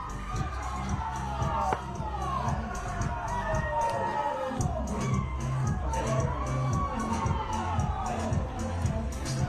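Crowd at a rugby league quarter final between the Rabbitohs and the Panthers, cheering and shouting as a constant roar, with whistles and excited voices rising over the din.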